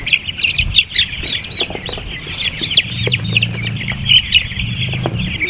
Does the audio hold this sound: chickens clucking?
yes